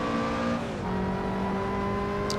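A Lotus Exige Scura engine drones steadily at Imola in the game Assetto Corsa, its pitch dropping as it downshifts from sixth to fourth to third, then holding at a lower hum; no talk.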